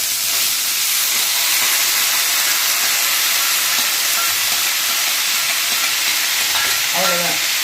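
Green beans and green chillies frying in a pan for a bean curry, a loud, close, continuous sizzle and hiss with occasional stirring scrapes.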